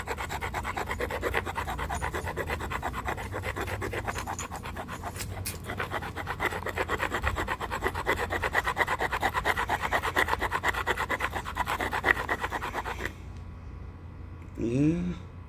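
Rapid rhythmic scraping and rubbing as an abrader grinds the platform edge of a Clovis stone core, loud and close for about thirteen seconds, then stopping, followed by a brief voice.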